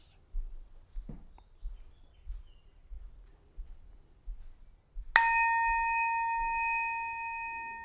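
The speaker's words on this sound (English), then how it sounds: "I'll ring the bell again" A meditation bell is struck once during a quiet mindfulness sitting, giving a bright, close metallic ring that sustains and slowly fades over several seconds after soft low room rumble.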